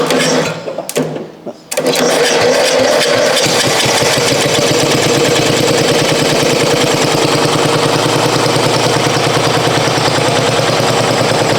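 Coast to Coast lawn mower engine cranking with a few short attempts, then catching and running loud and steady at close range, a continuous rapid putter that holds to the end.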